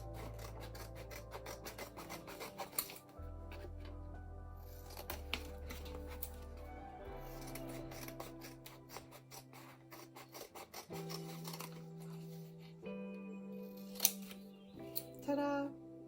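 Scissors cut inch-wide paper strips for a 3-D standing bird, quiet rasping snips repeating close by over a low, faint background hum.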